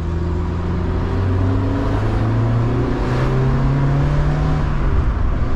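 A Mazda Miata MX-5 engine revs up as the car accelerates, a steady droning whine with rising harmonic pitch, loud and close, heard from inside with no talk over it.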